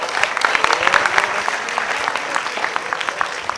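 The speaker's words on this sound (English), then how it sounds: "A round of applause for that." Audience at a business event clapping in a crisp, lively round of applause, with many individual claps audible in a sustained crowd ovation and a faint voice briefly underneath.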